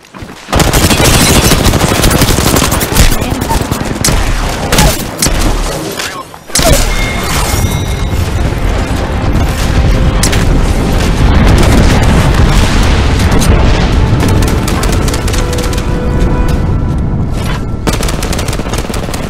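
Enemies open fire in the video game Apex Legends with dense, sustained automatic gunfire and loud booming impacts that go almost without pause for nearly twenty seconds, broken by one short dip, with occasional talk underneath.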